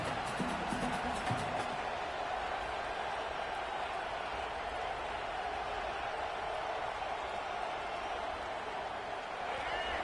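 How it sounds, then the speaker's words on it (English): Steady stadium crowd roar from a college football video game, Oklahoma versus LSU, a broad continuous wash of noise held at even loudness throughout. "The roar of the crowd trying to fuel this defense"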